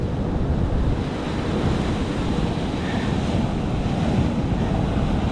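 Big, churning ocean waves toss sand around on an island beach, a continuous heavy roar of surf mixed with wind noise, steady and loud throughout with no voices.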